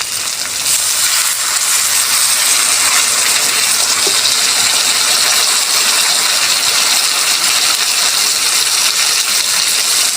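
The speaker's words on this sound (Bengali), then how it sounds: "এবার আমি অল্প জল দেব।" Water is poured into a hot frying pan over fried food for a prawn and taro-stolon dish, setting off a loud, continuous hissing sizzle that persists steadily and close up.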